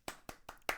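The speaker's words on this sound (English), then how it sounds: "I'll insert the applause there." Four sharp hand claps in a quick, even rhythm, close and crisp, standing in as an inserted applause sound effect with no voices.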